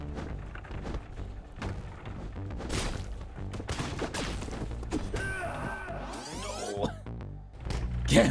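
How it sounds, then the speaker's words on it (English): Gunfire in the Katana Zero video game: rapid, sharp shots crack over loud, dense game music and effects, with a brief sweeping electronic sound in the middle. "there's someone who's like shooting me"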